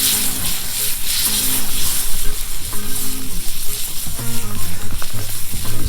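Steak and mushrooms sizzle steadily in a cast iron pan over an open fire, a dense, continuous frying hiss with crackle running throughout at close range.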